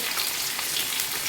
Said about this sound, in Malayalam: പച്ചമുളക്, ഇതെല്ലാം കൂടെ നന്നായി മൂപ്പിച്ചെടുക്കണേ